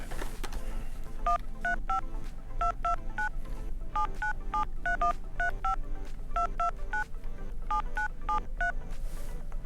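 A long run of touch-tone beeps as a phone number is keyed in for an international call, paired tones in quick clusters with short pauses between groups, over a steady low hum.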